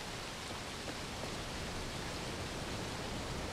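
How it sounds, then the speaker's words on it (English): Waterfall in the video game Obduction, a steady, dense rush of falling water filling the scene evenly from start to finish, with no voices over it. "This will be another waterfall."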